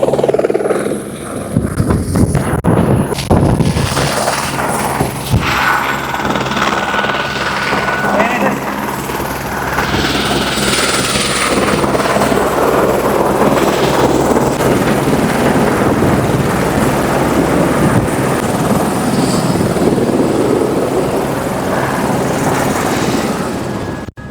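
An S20 series helicopter arriving for joyrides at Rushikonda Beach makes a loud, steady rotor and engine roar close by, with gusting wind buffeting the microphone throughout.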